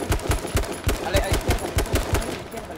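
Rapid automatic gunfire from the H1Z1 shooter game, a steady burst of about a dozen sharp shots at an even fast rhythm, loud and close, with no talk over it.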